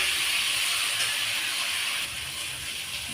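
Fish goes into a pan of potatoes frying in oil, and a steady, loud, hissing sizzle carries on without a break, with no speech.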